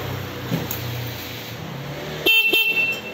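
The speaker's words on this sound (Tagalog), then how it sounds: "Okay, try mo nga, busina." A steady e-bike hum runs, then the e-bike's loud horn blasts twice in quick succession near the end, sharp and close.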